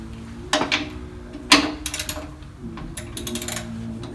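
A ratchet wrench loosens a bolt on a Harley touring motorcycle: close, crisp bursts of clicking come in short clusters, separated by brief pauses.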